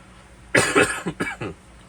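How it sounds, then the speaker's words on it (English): A short burst of harsh allergy coughing, several quick coughs in a row, close and fairly loud, followed by quiet. "Excuse me with my coughing."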